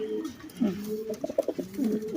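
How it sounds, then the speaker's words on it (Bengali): Pigeons coo close by, low repeated throaty calls rising and falling in a steady rhythm with no talking. "অ্যাক্টিভ কবুতর দেখাইতে হবে"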